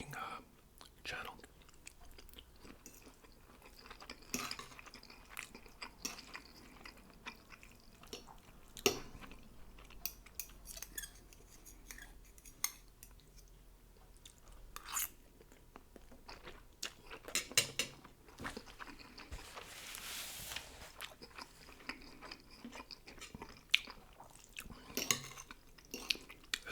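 Soft, close chewing of homemade pasta in a quiet ASMR mukbang, with faint wet mouth sounds and occasional utensil clinks on a dish, scattered irregularly across a long stretch.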